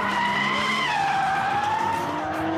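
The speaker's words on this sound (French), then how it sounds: "il y a même du drift en mode Fast and Furious" Cars drifting at Circuit du Castellet, tires screeching in a loud, sustained, wavering squeal that bends in pitch over engine noise, with no talking.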